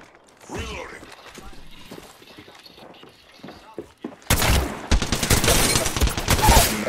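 Gunfire in the Apex Legends video game, a sudden loud burst of rapid shots that follows quieter stretches of game voice lines and mechanical creaks, then stays dense and forceful to the end.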